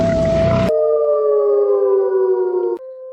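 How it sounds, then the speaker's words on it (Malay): After a brief rush of noise, a wolf lets out one long, loud howl that holds steady and slowly sinks in pitch, with no other sound around it. "Suara tadi apa? Lolong serigala."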